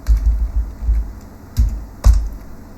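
Someone types a web address on a computer keyboard, a short run of close, soft key taps and a few heavier thumps, with no voices.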